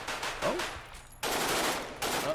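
Gunfire rattles in Dead Matter, two loud close bursts of rapid automatic shots separated by a brief lull, with a voice exclaiming faintly in between.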